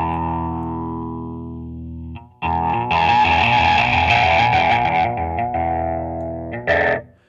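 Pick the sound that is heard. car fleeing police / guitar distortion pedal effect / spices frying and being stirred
guitar distortion pedal effect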